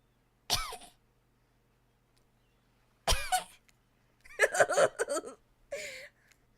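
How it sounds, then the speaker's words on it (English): Four separate bursts of coughing and throat clearing from one nearby person, each a short harsh rasp followed by quiet, the later ones a rougher cluster of hacks. "Oh god, do I have to do the cough every time?"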